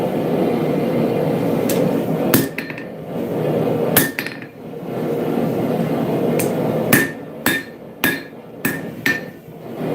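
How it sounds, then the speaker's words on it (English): Blacksmith's hammer strikes a dagger blade on an anvil, loud sharp metallic rings at uneven intervals, then a quicker run of blows near the end, over a steady workshop hum. "hit it with the heel of the hammer"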